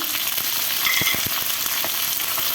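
Chili and shallots fry in a pan with a continuous bright sizzle, broken by a few soft stirring knocks against the pan.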